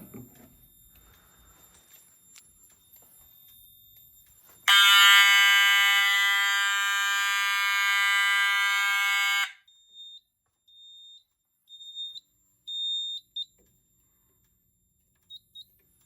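During a detector walk test, a fire alarm system sounds a loud, steady electronic tone for about five seconds, then breaks off into several short, quieter chirps and beeps in an otherwise quiet indoor space.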